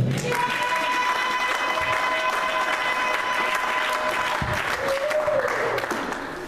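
A church congregation applauds loudly and steadily throughout, a dense wash of clapping with crowd murmur, while a sustained organ or keyboard tone rings underneath.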